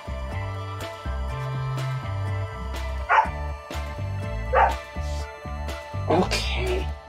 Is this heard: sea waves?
no